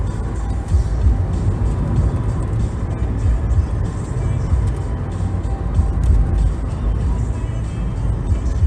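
Steady, loud low rumble of a car cruising along a country road, continuous engine and road noise from inside the vehicle with no breaks over several seconds.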